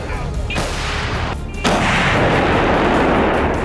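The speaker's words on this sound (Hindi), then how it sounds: "जमकर गोला बारूद और मिसाइलें बरसाई जा रही हैं।" Artillery shelling and missile strikes in the Russia–Ukraine war: a loud blast hits after a rumbling build, then dense sustained roaring noise continues, with faint voices underneath.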